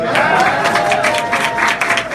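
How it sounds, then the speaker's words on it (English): Applause from an audience at a fundraiser for a New York City Council candidate, a dense burst of clapping lasting about two seconds, loud and close with some crowd noise mixed in. "You can clap for that."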